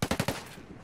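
Rapid burst of four gunshots from an automatic weapon in the tactical shooter Ghost Recon Wildlands, close and sharp, followed by a fading echoing tail with no voices.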